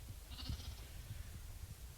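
Goats and lambs bleat around Eskra, a short wavering bleat rising over a low rumbling background, fairly close and heard alone without talk.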